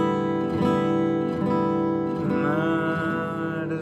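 Acoustic guitar strummed down across all strings with the fingernails, four even full-chord strums ringing out in a steady rhythm, close and clear with no talk.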